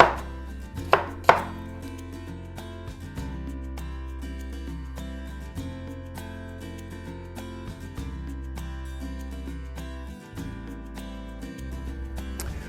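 A knife chops apples into small pieces on a board in quick, even strokes, each crisp knock close and clear, with a couple of louder thuds near the start and no voices.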